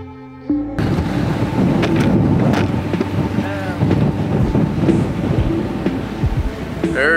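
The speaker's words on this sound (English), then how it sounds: "It is windy." Strong wind buffets and roars continuously while sea fishing at Totland, Isle of Wight, gusting loudly over the microphone, with faint splashing and creaks beneath the rush.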